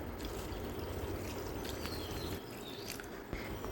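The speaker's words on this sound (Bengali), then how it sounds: "এখন দিয়ে দেবো ঠান্ডা জল" Cold water pours from close by onto boiled soya chunks in a bowl, a continuous splashing rush that stays steady and fairly soft for a few seconds with no talking.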